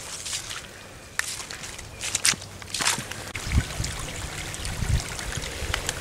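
Floodwater runs off a road and across a flooded hiking trail, a steady broad trickling wash with footsteps splashing through it close by.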